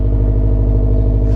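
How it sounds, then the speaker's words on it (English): A Honda S2000 engine running rough with a misfire, a close, loud, steady idle hum with a regular pulsing beat throughout. "Not even joking, my car sounds like this."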